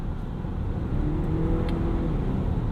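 A 2018 Volvo XC60 T8 plug-in hybrid accelerates in sport mode, its electric motors leading before the turbocharged engine spools up, giving a steady, close whirring rise under the cabin rumble with no talk.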